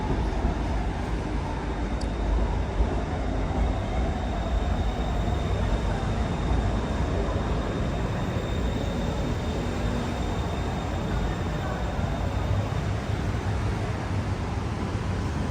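A train rumbles past steadily at moderate distance, a continuous broad roar with faint squeal, with no voices.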